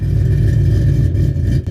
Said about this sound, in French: Maintenant, l'échappement.